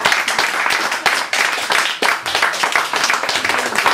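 Audience applause for a poet at a poetry reading night: lively, close clapping from a small crowd with sharp individual claps standing out, steady and loud for several seconds.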